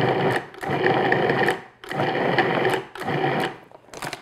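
A food processor pulses pastry dough for an apple pie: three firm whirring motor bursts of shrinking length and a brief final blip, each stopping abruptly, close and loud with no talking.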